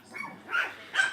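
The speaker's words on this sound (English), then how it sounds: "listen to my little puppy." A small puppy yips and barks indoors late at night, two or three short high-pitched barks close by with brief pauses between them, no talking over them.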